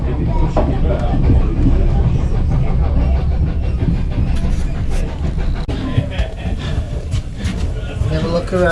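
Heritage railway train on the Keighley Worth Valley line, a steady, loud rolling rumble heard from aboard, with people talking over it.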